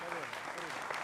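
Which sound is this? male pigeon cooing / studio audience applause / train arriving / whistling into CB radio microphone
studio audience applause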